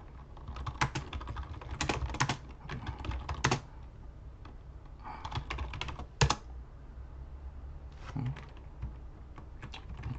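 Someone types on a computer keyboard while setting up a Raspberry Pi 5, with clusters of quick close key clicks in uneven bursts and short pauses between them.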